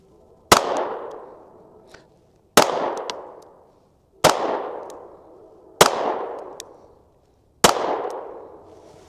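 Five loud, evenly spaced gunshots from a .380 pistol firing Buffalo Bore +P ammunition with 80-grain Barnes hollow points, each a sharp crack with a ringing decay, about two seconds apart.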